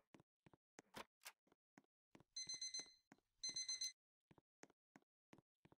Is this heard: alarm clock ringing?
yes